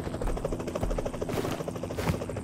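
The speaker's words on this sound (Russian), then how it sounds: "Ну все, вертушка подлетела за нами" A helicopter arriving in the PUBG Mobile battle royale game, its rotor thudding in a rapid, steady chop over a broad engine whine that holds loud and close throughout.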